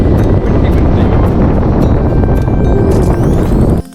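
Strong wind on Snowdon's Watkin Path roars steadily across the microphone, buffeting and rumbling without pause until it drops away abruptly at the very end.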